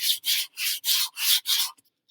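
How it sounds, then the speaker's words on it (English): Six rhythmic back-and-forth strokes of 120 grit sandpaper rubbed by hand along a wooden clock edge, a close, dry scratchy rasp in even bursts with short gaps, no voices. "working on getting rid of those ridge lines by sanding right on top of the line until the line disappears"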